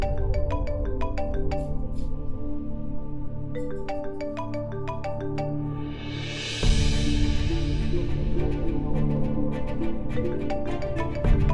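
A phone ringtone in a Hindi TV drama scene plays as a steady, repeating electronic melody of short tones, faint and alone, with a brief rising swell midway.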